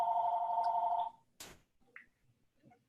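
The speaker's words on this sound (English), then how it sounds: "Is your phone ringing?" A telephone rings far off for about a second with a steady electronic tone, then stops, leaving a quiet indoor room with one brief rustling bump.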